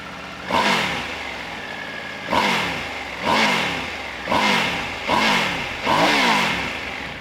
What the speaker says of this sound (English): what you get here is a typical Triumph 3-cylinder sound